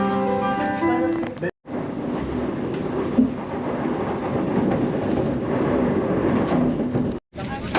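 Steady rumble and hiss of an Italo Evo high-speed train pulling out of Florence toward Rome, heard from inside a Prima class carriage, constant with a couple of brief dropouts, under a voice speaking.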